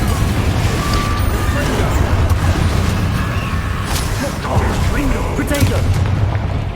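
Confringo spell explosions from the video game Hogwarts Legacy, a series of booming blasts and crackling bursts during a chaotic spell fight, loud and close with combat effects and voices throughout.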